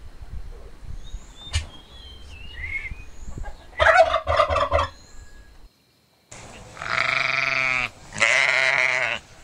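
Turkey gobbling on a farm: a couple of short scattered calls, then a burst of rapid gobbles and two long, loud harmonic cries near the end, close and clear with no talk.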